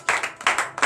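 A church congregation claps during morning prayer, three short bursts of hand clapping in quick succession, fairly close and loud, with no talk over them.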